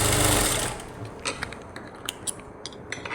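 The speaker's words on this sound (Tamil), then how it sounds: "கீழே துணியை வச்சு ஒரு அரை இன்ச்சில் நம்ம நேராக தைச்சிட்டு வருவோம்" A sewing machine runs in a short, loud whirring burst as it stitches a straight half-inch seam in fabric for a puff sleeve, then stops, leaving scattered light clicks and taps.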